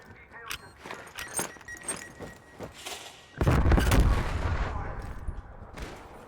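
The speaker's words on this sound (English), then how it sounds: "As the nades go out" Grenades and gunfire in a competitive Call of Duty match, heard as sharp scattered shots under a caster's commentary, then a loud blast that rumbles and slowly fades.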